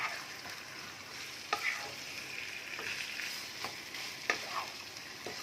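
Whole garam masala is stirred into a chicken curry in coconut milk, a soft simmering sizzle under a few scraping spoon strokes against the pan at moderate distance.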